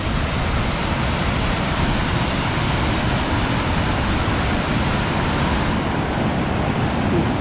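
A North Shore waterfall pours and drops steadily, filling the air with a dense, constant roaring rush that stays loud and close throughout, with no voices.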